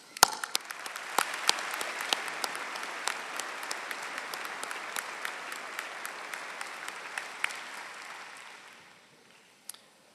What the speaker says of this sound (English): I ask that you join me in applauding these tireless individuals